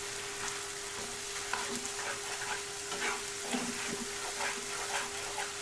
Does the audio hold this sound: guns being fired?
no